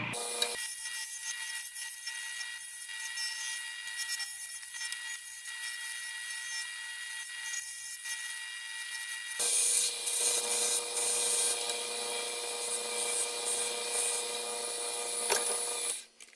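A woodturning tool cuts into a spinning wooden stick pen on a lathe, giving a steady, harsh scraping rub over the motor hum that turns brighter and louder partway through before cutting off abruptly.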